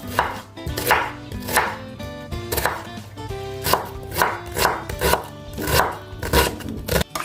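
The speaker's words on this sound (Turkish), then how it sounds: "Yani soğanı doğramaya." A knife chops an onion steadily on a cutting board, fast rhythmic thuds repeating over music without any talking.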